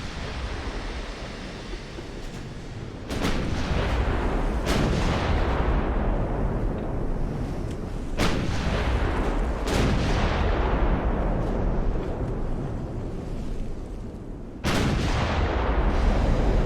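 Battleship guns fire during a naval battle in the game Ultimate Admiral: Dreadnoughts. Several heavy booming salvos sound over a constant roar of wind and sea, with no talking.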